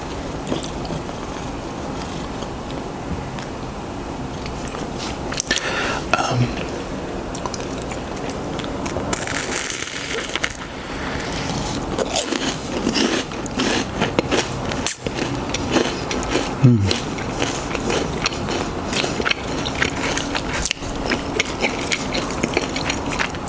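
Someone eats a grilled cheese on brioche close to the microphone, producing soft, irregular bites and wet chewing with occasional crunchy clicks throughout.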